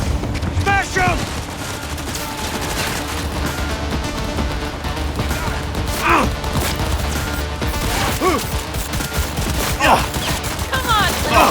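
Rapid gunfire in the game Cyberpunk 2077, dense bursts of shots and impacts rattling continuously through a chaotic firefight, with shouted voices breaking in over the shooting.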